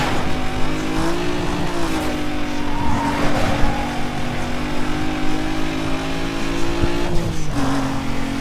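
A Pontiac GTO races in Need for Speed Most Wanted with a sustained engine drone that shifts pitch, while tires squeal and skid through turns, loud and continuous.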